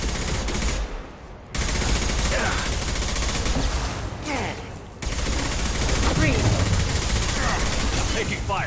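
Gunfire from the video game Mass Effect 2 fills the clip as dense, continuous volleys of rapid shots, with brief lulls, and voices can be heard talking through the combat.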